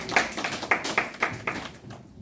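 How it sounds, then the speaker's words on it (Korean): A short burst of audience applause in a classroom or seminar setting, a handful of sharp claps standing out over a soft, steady patter before it fades out, with no talking over it. "박수 한번 쳐주세요"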